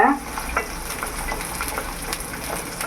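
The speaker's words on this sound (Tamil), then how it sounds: "அதையும் போட்டு வதக்கிடுவோம் நல்லா எண்ணெயில் நல்லா வேகணும் நல்லெண்ணெயில்" Garlic and onion sautéing in sesame oil for garlic kuzhambu, a short stretch of close, even sizzling with soft stirring movements.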